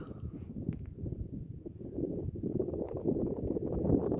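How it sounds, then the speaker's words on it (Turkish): Steady wind buffets the microphone outdoors at Lake Salda, by pine forest, a low rumbling roar that swells and gusts without letting up. "Burada sadece rüzgar."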